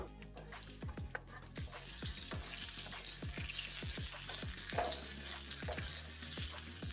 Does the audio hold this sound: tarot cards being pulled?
no